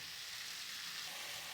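Potatoes sauté in hot oil, giving a steady, even sizzle and crackle throughout, close and fairly quiet with no talking.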